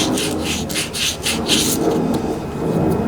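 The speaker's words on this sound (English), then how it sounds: "you want to sand that with a real fine grit" Fine-grit sandpaper rubs rust off the bearing surface of a Briggs and Stratton starter motor, making close, loud, rhythmic rasping strokes repeated several times in quick succession with no talking.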